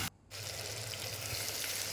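Ripe banana pieces sautéing in a heavy-bottomed pan give a steady, close frying hiss that starts after a brief pause and holds evenly to the end, with no voices.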